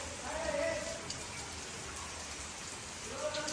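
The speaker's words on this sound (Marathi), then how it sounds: "मस्त पाऊस पडतोय" Rain falling in the Konkan in the early morning, a steady faint patter on surfaces with soft swells and no talking.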